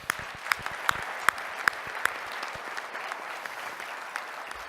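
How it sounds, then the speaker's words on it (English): Audience applause at a Department of Defense awards presentation, a steady wash of clapping from a room of people with a few sharper, louder individual claps standing out, fairly distant and moderate. "let's just give them a round of applause for that"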